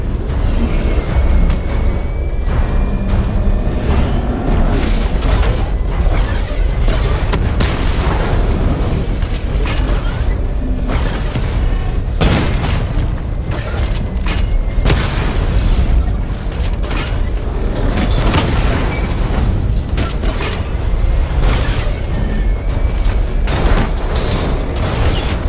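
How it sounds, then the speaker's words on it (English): A missile barrage from the Batmobile in Batman: Arkham Knight sets off a loud, dense run of game explosions and booms, layered with mechanical clanks and rumbling that keep going the whole time. "Charge up missile barrage to level 2 and destroy 4 active targets to complete diagnostic test."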